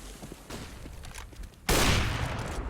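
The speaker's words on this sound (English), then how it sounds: "Nice shot there onto Robin" Gunfire during a Counter-Strike match: a dull background of distant crackling shots, then a sudden loud, close burst of rapid fire that keeps roaring to the end, with no talking.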